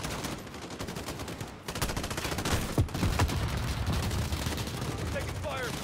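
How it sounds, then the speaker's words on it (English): Rapid automatic gunfire during an assault on a residence in Call of Duty Modern Warfare, dense sustained bursts after a brief lull, with distant shots and chatter mixed in. "Taking fire from the residence."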